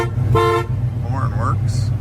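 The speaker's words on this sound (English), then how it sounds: "Horn works." A 1977 GMC K1500 pickup truck sounds its horn in one short, loud honk, followed by brief speech and faint background noise.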